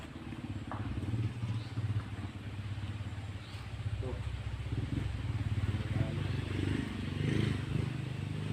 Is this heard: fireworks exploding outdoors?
no